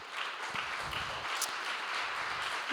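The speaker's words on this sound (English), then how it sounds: "round of applause to all of our panelists." An audience at a technical data-systems conference applauds the panelists, a steady wash of many hands clapping at moderate distance, no speech over it.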